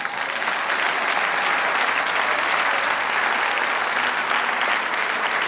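A church congregation applauding during a worship service, with steady, dense clapping from many hands that holds at an even level from start to finish.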